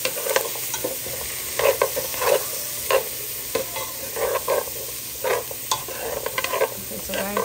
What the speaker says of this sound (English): So I'm gonna give these a stir